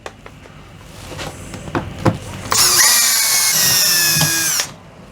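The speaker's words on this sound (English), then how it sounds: "Got 4 more screws to get this plenum down" A power drill runs in one steady burst, driving out screws from the roof air-conditioner plenum of an RV, loud and close after a few faint knocks and handling sounds.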